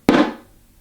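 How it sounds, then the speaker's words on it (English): A single muted hand stroke on a samba drum, the palm pressed on the head to damp it and raise the pitch: one close, dry thump that dies away quickly. "where you lightly press your hand against the drum head in order to muffle the sound slightly and to raise the pitch"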